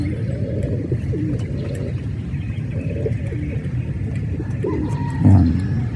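Pigeons kept as racing birds coo in low, repeated throaty calls, close and fairly clear over a soft rumbling background, with a brief louder thump near the end.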